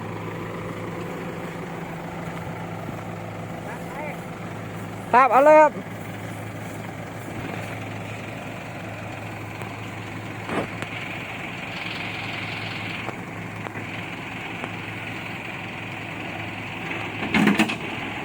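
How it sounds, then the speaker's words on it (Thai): A farm tractor's engine idles with a steady low rumble throughout, heard beneath two brief bursts of nearby talk. "รถไถมาแล้ว"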